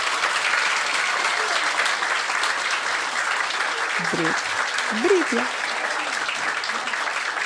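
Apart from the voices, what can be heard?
audience applause for first-grade children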